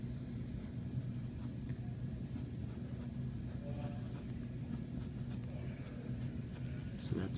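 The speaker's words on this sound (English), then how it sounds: "So I'm gonna draw out 5 separate blocks," Pen or pencil scratching on paper while drawing small blocks, a quiet, continuous scribbling with short strokes and brief pauses, close and alone.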